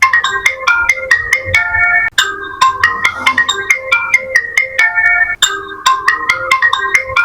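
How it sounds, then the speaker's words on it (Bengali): A bright, repeating electronic ringtone melody plays loudly and continuously from a Jio J15 Pro Max feature phone. "প্রোফাইলে আমি আপনাদের রিংটোনের সাউন্ডটা শোনাই কেমন রিংটোন এখানে দেওয়া হয়েছে"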